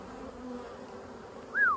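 Steady honeybee buzzing at a hive fills the clip at low volume, with one louder bee sweeping close past near the end.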